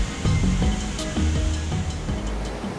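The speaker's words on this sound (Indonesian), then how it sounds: "Percikan air dari hantaman air terjun membuat badan menjadi basah" Steady, loud rushing roar of the Muaro Sangga waterfall in Jambi, Indonesia, heard up close where its spray drenches visitors. A continuous broadband wash with no talking.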